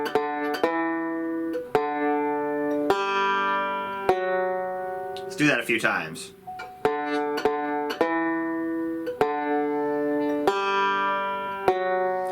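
A banjo picks the opening notes of Happy Birthday, starting with the open fourth string struck twice by the thumb. The short plucked phrase repeats several times, clear and close, with a brief spoken pause in the middle.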